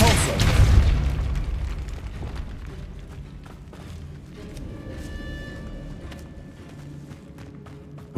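A Depulso spell blast in the Hogwarts Legacy video game, a loud booming burst at the start that rolls into a long, fading rumble with faint game ambience and tones behind it.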